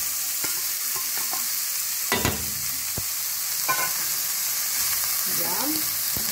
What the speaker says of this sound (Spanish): y empezamos a sofreír.